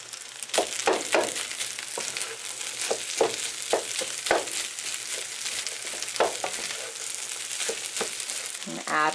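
Rice tipped into half-set eggs in a frying pan brings a steady sizzle mixed with scraping stirs and rustling crunches, close and fairly loud, with no talk.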